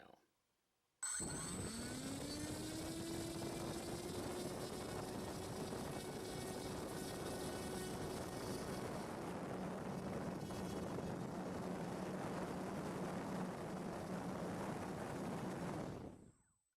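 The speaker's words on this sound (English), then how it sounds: "now I'm going to do a half throttle run right now" A Hobby King RC electric motor with propeller on a thrust stand spools up sharply and holds a steady, loud whirring whine at half throttle, then cuts off abruptly near the end.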